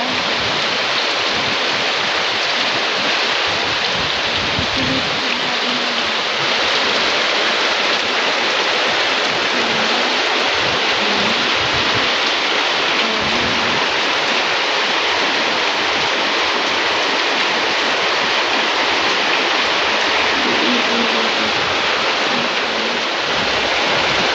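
Heavy rain pours steadily and loudly, a dense continuous hiss of water with no pauses, no voices heard.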